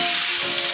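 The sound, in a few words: fish frying in a pan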